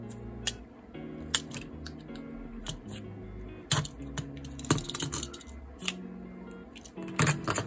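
Scissors snip through clear plastic sheet while a transparent planner is made by hand, a series of short, crisp clicks and cuts at close range, irregular in rhythm, with quiet handling noises between them.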